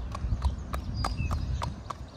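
A mare being walked, her hooves clip-clopping in a steady, even rhythm of about eight footfalls on firm ground, close and distinct, with a low background rumble.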